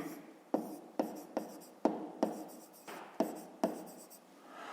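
An equation written by hand for a fifth-grade math exercise: about nine crisp scratching strokes and taps in an uneven rhythm, close and fairly quiet, with no talking.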